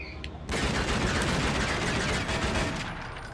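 A gun in the video game Tomb Raider Legend fires a loud, rapid burst of gunshots that starts abruptly after a brief quiet moment and continues without a break to the end.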